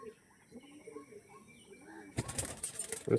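Pigeons cooing and calling softly at a distance, then a sudden burst of loud, close wing flapping and rustling near the end.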